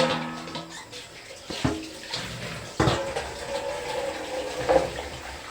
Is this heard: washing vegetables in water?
yes